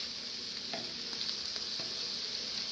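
Onions and celery frying in butter in a pan on a woodstove, a steady close sizzle with soft scraping stirs at intervals, no talking.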